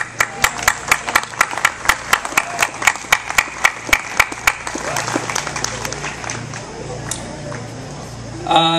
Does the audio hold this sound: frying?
no